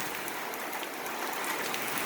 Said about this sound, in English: But this rain has cooled it down nicely.